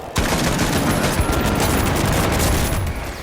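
A minigun in The Finals video game fires a loud, sustained burst of rapid gunfire that runs almost unbroken for about three seconds before tapering off.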